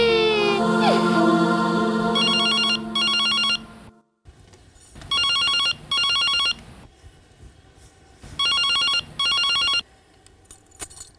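A telephone rings for an incoming call in a Hindi TV serial drama, sounding in three loud bursts of quick double rings separated by short pauses, after a stretch of swelling background music.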